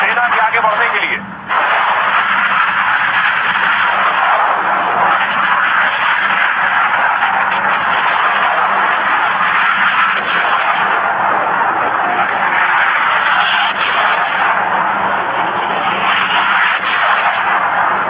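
Rumbling artillery fire and explosions from Israeli missile and fighter jet attacks in Lebanon, a loud continuous roar with repeated blasts and possible jet engine noise throughout.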